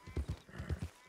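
Horse hooves clip-clop in the Red Dead Redemption 2 video game, a quick run of about eight to ten rhythmic thuds close by, moderately loud and with no talk over them.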